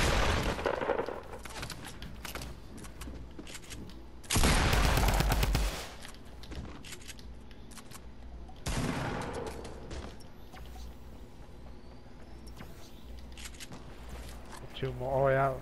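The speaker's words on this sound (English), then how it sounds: "There's three people shooting at you" Heavy gunfire from a Fortnite duos match comes in loud, rapid bursts, including a dense, sustained burst in the middle, against a background of quieter game sounds.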